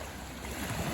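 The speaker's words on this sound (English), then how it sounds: "And the sounds of the water." Water washing and lapping outdoors in a backyard wildlife area with geese nearby, a steady broadband rush close to the microphone with some wind.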